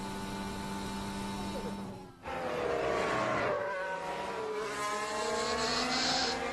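Formula 1 race cars at the 2021 Turkish Grand Prix, engines screaming at high pitch with rising and falling gear-change tones and a brief dip before the roar returns, steady under continuous commentary.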